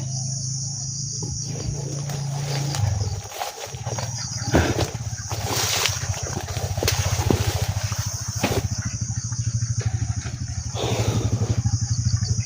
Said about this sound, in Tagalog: Nagmadaan anak motor.